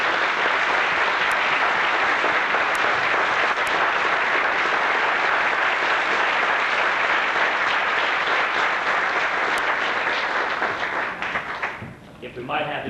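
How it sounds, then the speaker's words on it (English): A theater audience gives the cast of a stage play a sustained round of applause, loud and dense throughout before tapering off abruptly near the end. "I want to give them another applause tonight."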